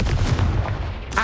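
A Confringo fire spell blast from the Hogwarts Legacy game: a dense, loud, booming burst with heavy low rumble lasting about a second, ending in a brighter crackle.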